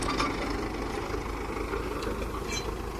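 A tractor engine idles with a steady low rumble, close and continuous throughout, out on a farm field with no talk.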